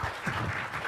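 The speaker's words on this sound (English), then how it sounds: "round of applause, great" Meeting audience applauding at the ISOC gathering, a brief, steady wash of clapping with low rumbling bumps underneath, moderately loud and continuous without a clear start or end.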